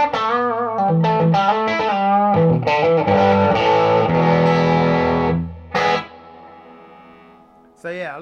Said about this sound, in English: So yeah, a lot of the classic reverb sounds in there.